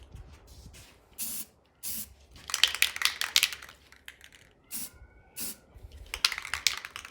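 A spray paint can coats the inner side of a car wheel rim, an Evo X rim fitted to a 1992 Mitsubishi 3000GT VR4, in short hissing bursts of about a second each, several in a row with pauses between.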